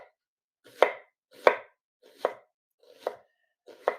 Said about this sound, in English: Just simply cutting thin strips